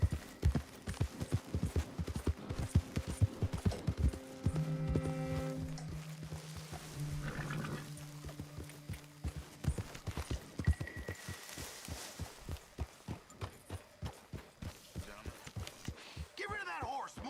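Horse hooves clip-clop steadily on the ground in Red Dead Redemption 2, a regular close rhythm of hoofbeats that runs under speaking voices and a low humming tone.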